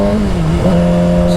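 A 2006 Suzuki GSX-R600 K6 sport motorcycle engine revs loud and close, holding a steady buzzing tone that dips briefly in pitch before climbing back.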